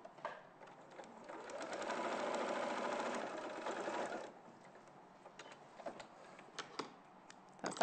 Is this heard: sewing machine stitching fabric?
yes